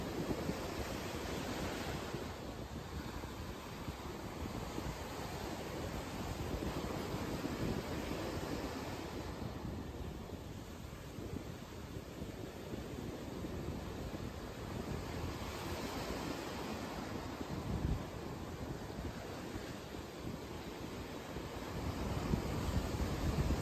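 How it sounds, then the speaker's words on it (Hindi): Sea waves wash continuously onto the shore while strong, gusty wind roars across the microphone, the surf swelling and easing in slow surges with no voices. "समुद्र की लहरों को सुनते रहिए।"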